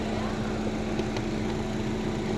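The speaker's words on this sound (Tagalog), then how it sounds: "Ito na po yung engine." A Chevrolet Orlando engine idles steadily with a constant low hum and faint mechanical ticking, close by and without talk, in a car with an engine controls relay fault.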